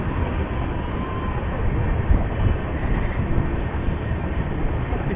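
The Bhrigu Superfast Express pulls out of Aligarh railway station, a steady loud rumble and clatter of the moving train that stays constant and close throughout, with no voices.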